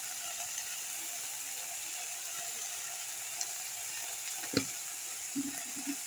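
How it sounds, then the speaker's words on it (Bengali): Spices (masala) fry in a pan with a steady, faint sizzling hiss. A few soft clicks and a brief low knock break the sizzle near the end. "এবার ভালো করে মশলাটা ভাজতে থাকবো।"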